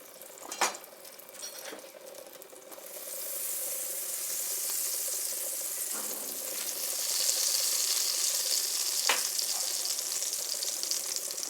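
Butter hitting a preheated pan already holding two spoonfuls of olive oil, a steady close sizzle that swells and keeps hissing, with a few soft clinks of utensils early on.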